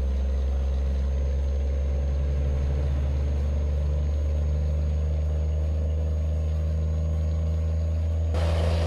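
A loaded Scania truck in Euro Truck Simulator rolls down a mountain road toward Jacupiranga-SP, its engine a steady, close, low rumble that holds throughout with no talking.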